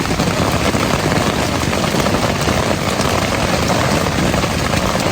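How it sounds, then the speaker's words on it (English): Hail pounding on a tent on the Appalachian Trail at Beauty Spot Gap, a loud, dense, continuous drumming roar with no breaks throughout. "Oh my god, it's hailing."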